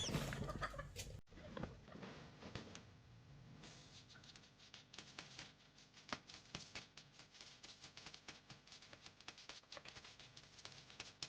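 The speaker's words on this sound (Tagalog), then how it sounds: "Hulihin daw ni tatay yung manok." A chicken clucks and squawks in short, uneven bursts while being caught by hand outdoors, with flapping and scuffling close by and a low, busy background throughout.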